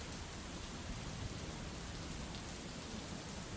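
Steady rain falls outside in a soft, even hiss of drops with no breaks, fairly faint and uniform throughout.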